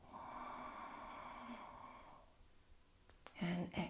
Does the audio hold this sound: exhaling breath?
yes